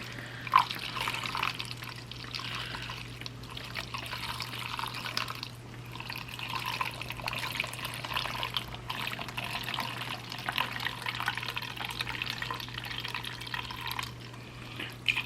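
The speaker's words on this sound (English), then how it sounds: "you're going to pour your mixture in" Brine is poured into a jar of peppers for fermented peach habanero hot sauce, a steady splashing and trickling of liquid that runs unbroken for about fifteen seconds with a faint low hum beneath.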